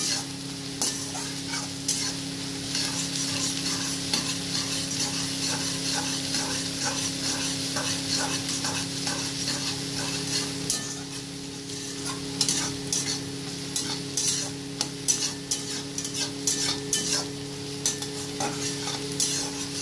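Onions fry and sizzle steadily in a pan while being stirred, with a continuous hiss and repeated scraping strokes of the utensil, close and fairly loud, with no talk.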